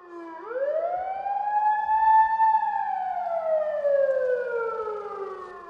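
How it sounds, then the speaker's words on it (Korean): An emergency warning siren signalling imminent blasting inside the Inje tunnel construction site winds up quickly to a loud, steady wail, then slowly slides back down in pitch, sounding alone. "응급 상황을 알리는 사이렌 소리가 요란하게 울려 퍼진다."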